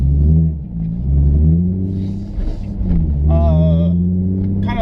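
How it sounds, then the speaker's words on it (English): A Nissan 350Z engine revving while driving, floored from low RPM, with a deep rumbling growl that rises and swells in two strong pulls, close and loud inside the car, with brief muffled sounds between. "So we're just gonna keep driving around, flooring it from 2000 RPMs"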